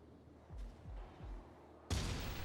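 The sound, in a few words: enemy gunfire in the video game Foreign Legion: Multi-Massacre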